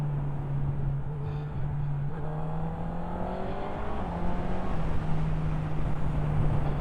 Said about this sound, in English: So we're into 3rd gear, dropping into 2nd, again the auto blip, flip-flop edge to edge.